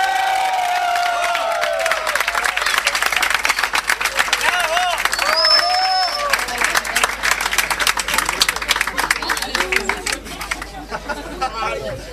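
Audience at a live music show applauds and cheers for a singer, clapping building partway through over steady crowd chatter and talking voices.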